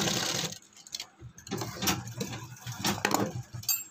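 A sewing machine stitches a shirt collar in short, uneven runs of rapid mechanical ticking and whirring, close and moderately loud, with brief pauses between bursts.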